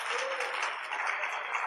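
Brief, steady applause from a comedy poetry gathering audience, a dense even patter of many hands with no break.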